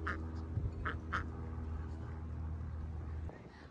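A black duck at Lake Balboa gives a few short quacks over a steady low motor drone, with faint background murmur around them.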